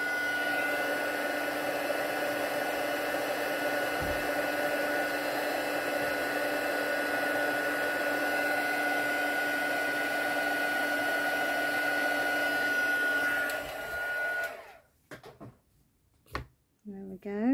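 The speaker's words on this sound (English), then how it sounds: "always heat your heat gun, make sure it's hot before you bring it to the stamped" A heat gun blows a steady, close, loud whir over stamped card for heat embossing, then shuts off and leaves a few faint taps and handling sounds.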